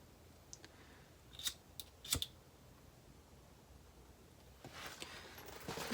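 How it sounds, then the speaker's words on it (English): Scissors snip through the end of a zipper beside a fabric zipper panel on a sewing project, three or four quick, crisp close cuts in a quiet room, followed by faint rustling handling. "first what I'd like to do is trim my zipper so that it's even with the edges of my zipper panel"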